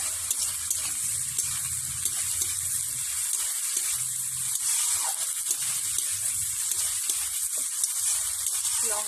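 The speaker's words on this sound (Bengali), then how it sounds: "লঙ্কাটা একটু ভালোভাবে ভেজে নেব।" Dried chilli and ginger paste sizzles in hot oil, a steady bright crackling hiss close up, with occasional soft stirring taps and no talking.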